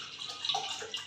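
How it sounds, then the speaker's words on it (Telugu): Water splashing and gurgling steadily as it is poured into a pot of washed moong dal (split green gram) in a home kitchen, a continuous close pour with no talk. "కొంచెం నీళ్ళు పోసుకుని"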